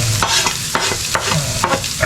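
Onion and garlic frying in a pan while being stirred, a steady loud sizzle broken by repeated scraping strokes of the utensil roughly every half second, with no talking.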